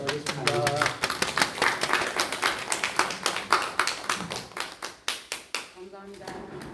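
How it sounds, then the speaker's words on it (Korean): Church congregation at a Korean Sunday praise worship service clapping in a rapid, even rhythm of sharp claps that slows and thins toward the end, with brief voices at the start and finish. "박수 하겠습니다."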